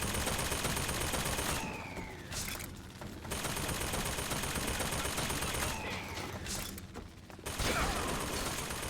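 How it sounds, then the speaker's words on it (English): Bursts of gunfire in BioShock Infinite, aimed at the player, come as two dense volleys of rapid shots separated by lulls, loud and close amid constant game noise. "Please stop shooting me."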